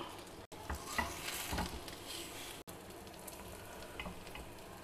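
Food cooking in an oiled pan for a kids' lunchbox recipe, a steady soft sizzle with a few faint stirring and turning scrapes, moderately quiet and alone throughout.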